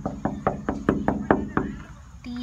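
Seven evenly spaced knocks on a porcupine's enclosure at a zoo, sharp and close, followed by a brief tonal sound at the end.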